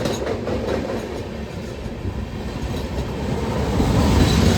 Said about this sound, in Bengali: এবার আমাদের সাথে দেখা হবে 12435 আনন্দিয়ার টার্মিনাল গরিব রথ এক্সপ্রেসের সাথে